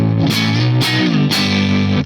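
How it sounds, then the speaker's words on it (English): Electric guitar played through a Lance Amplification Aerial amp with its own distortion, three sustained overdriven chords struck about half a second apart, each ringing thick and loud. "that's purely just the amp, that distortion"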